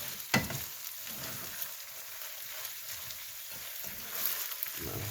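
A Thai spicy basil stir-fry with eggplant frying in a pan, a steady close sizzle underneath occasional scraping and stirring sounds, with one sharp knock near the start.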